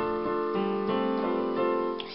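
Solo piano playing an arrangement of a song, with sustained chords and a few soft note onsets through a short two-second passage, clean and close with no talking.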